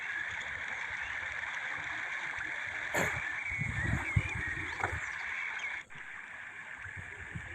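Water flows over rocks at Ghagra waterfall, a steady rushing hiss at moderate distance, broken by a few soft knocks and a short dip in level near the end.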